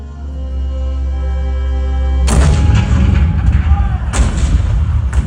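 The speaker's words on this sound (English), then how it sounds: "the cannon spoke for war" A sudden heavy boom of cannon fire cuts in after a low sustained hum, followed by rumbling echoes and a second blast a couple of seconds later, in a Disneyland attraction.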